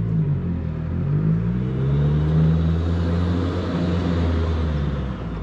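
A Rotrex-supercharged NB Mazda Miata engine drones loudly and steadily from inside the car while driving, with engine pitch slowly climbing through the revs and then easing off, and no voices.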